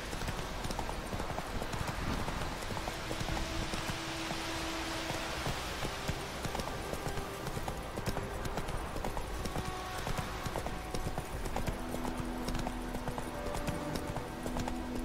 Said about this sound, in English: This is Roach the Wonder Horse.